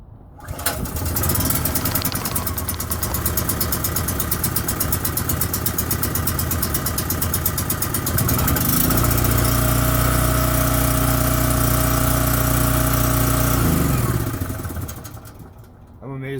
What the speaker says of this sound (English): generator's on.